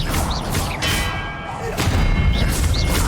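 A spell bursts out in Hogwarts Legacy as the Expelliarmus disarming charm is cast, a booming, resonant blast with a ringing tail, followed by further thumping impacts as someone talks over the game sounds.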